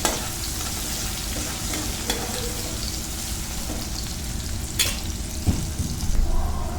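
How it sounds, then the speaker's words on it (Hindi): Finely chopped green chillies fry in a little hot oil for Jodhpuri mirchi vada, a steady close sizzle and crackle with faint stirring scrapes throughout and no voices. "हरी मिर्च को हल्का सा कुछ सेकंड के लिए थोड़ा सा ऑयल में फ्राई कर लेते हैं।"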